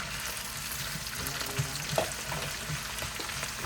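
Vegetables, Brussels sprouts among them, fry and sizzle in olive oil in a pan with a steady crackle, and a few soft stirring clicks surface near the end.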